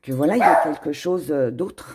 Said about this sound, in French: Désolée pour le petit chien qui a aboyé.